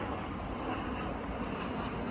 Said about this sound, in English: there are more planes coming through